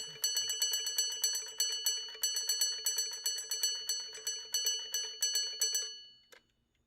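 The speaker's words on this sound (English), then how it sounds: "when the alarm is up, it's gonna ring." An old antique alarm clock rings its bell in rapid, steady bursts for about six seconds, loud and close, then stops abruptly.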